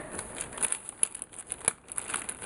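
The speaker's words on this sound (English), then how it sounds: "I'm gonna just open a resealable bag" A plastic resealable bag holding small compressed towels is opened with a few close, quiet crinkles and sharp rustles in quick bursts.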